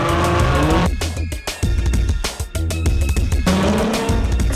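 A drift car sliding sideways at speed in a judged drifting run, loud close tire squeal and engine roar, the sound dipping briefly twice in the middle before surging back.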